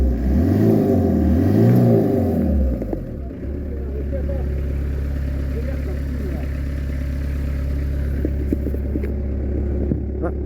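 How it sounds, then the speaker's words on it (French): A car engine, just repaired, is revved with the accelerator: a few quick rising and falling throttle blips up close, then it settles into a steady, low idle rumble. "je vais te faire un coup d'accélérateur là."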